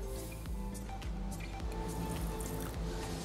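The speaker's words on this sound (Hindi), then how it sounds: "उस मग में हम पहले थोड़ा सा पानी डालेंगे" Water poured into a mug makes a soft, continuous trickling and dripping under a steady noisy background, faint and fairly close.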